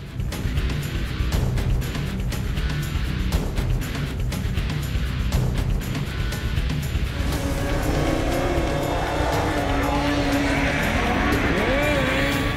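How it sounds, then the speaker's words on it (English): Snowmobiles racing in a snocross event at Lake Geneva, Wisconsin, with engines revving and passing, rising and falling whines that climb sharply in the second half, under a commentator's voice. "Tremblay surges ahead, inching closer to race leader Ebert"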